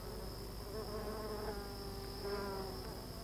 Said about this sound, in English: A much smaller hole in the fig tree has become the home of a colony of Mayan stingless bees.